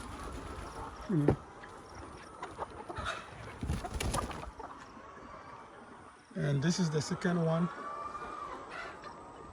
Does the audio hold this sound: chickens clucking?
yes